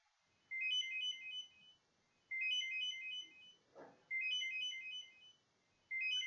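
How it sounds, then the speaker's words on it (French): A Bose SoundSport Free wireless earbud plays a faint, repeating melodic beep pattern, short rising tone sequences separated by pauses, with no talking. "Et ça va biper au fur et à mesure que le son va monter."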